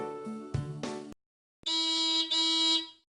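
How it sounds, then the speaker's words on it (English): Two sustained car horn blasts sound alone outdoors, one after the other with a short silent gap between them, each loud and steady, the second tone brighter and ending abruptly. "The sound of the car horn gets softer and softer as it travels through the air."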